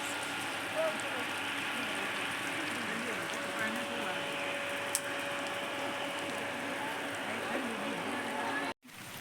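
Sudden rain falls steadily at an outdoor spot beside a swimming pool: an even, continuous hiss of drops that holds at moderate level throughout, with a brief break near the end.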